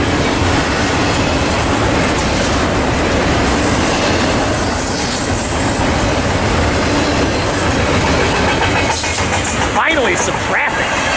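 A freight train rumbles and clatters past close by in a steady, loud roar, with a brief high metallic wheel squeal near the end.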